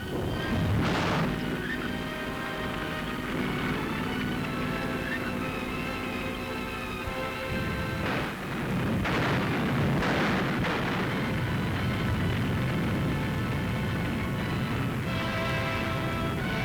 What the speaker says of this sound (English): The Germans' own guns, captured, were now turned against them.